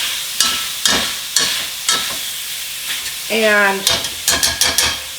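Pork frying in a pan with repeated scraping and stirring strokes, a steady sizzle underneath and a brief spoken voice in the middle.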